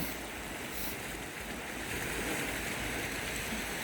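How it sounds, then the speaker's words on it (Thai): Waves washing against the shore at night on Koh Kood island, Thailand, a continuous surging roar of surf with no voices. "เสียงคลื่นกระทบฝั่ง"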